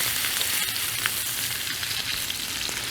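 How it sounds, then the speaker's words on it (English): A ribeye steak sizzles loudly in a hot cast iron pan, a dense, continuous crackling hiss with scattered pops that holds steady for three seconds with no talking. "now we're gonna get this ribeye into the pan. Be careful with this because it is hot, but that is the sizzle we want"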